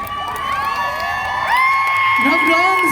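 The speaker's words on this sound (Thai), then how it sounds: "ปรบมือต้อนรับ กับนักร้องท่านนี้หน่อยครับผม" A crowd at a Songkran festival stage show cheers and whoops to welcome a singer, with loud shouts and excited voices layered over a sustained tone, the noise swelling slightly toward the end.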